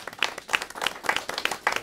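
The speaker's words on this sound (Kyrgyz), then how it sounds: "Бир кол чаап куттап коелу." A small audience claps in a brief, uneven burst of separate hand claps, close and fairly loud, lasting under two seconds.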